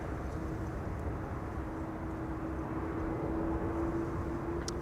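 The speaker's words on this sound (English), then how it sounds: "Garuda in the retro livery is going to land on this" Garuda airliner in retro livery approaching to land on a runway at Amsterdam Schiphol, a steady distant jet engine rumble with a faint whine, continuous and broadband throughout.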